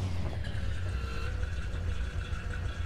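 A stuck truck's engine in an off-road junkyard driving game drones and revs steadily at low pitch, a continuous rumbling motor heard close with slight surges.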